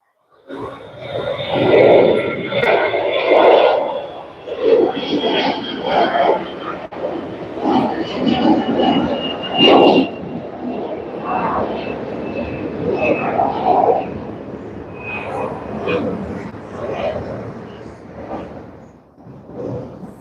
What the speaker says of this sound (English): Here goes another takeoff.